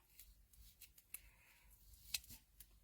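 Non-stick scissors trimming card during a cardmaking session, heard as a few quiet, separate snips spread across a soft background with little else going on.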